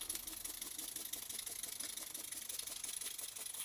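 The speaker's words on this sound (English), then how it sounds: "for a quick test, I'm connecting a piece of silicone rubber tubing to supply some compressed air to the engine" A small model oscillating cylinder engine for a Glasgow paddle steamer model runs on compressed air fed through silicone tubing, a faint, fast steady chuffing with hissy rattling throughout.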